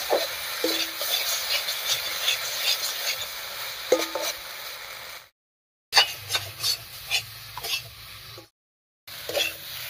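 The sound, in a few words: stirring and mixing boiled potatoes with spices in a pan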